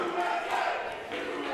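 Wrestling crowd at a Delilah Doom match roaring and cheering in a steady, loud wash of many voices.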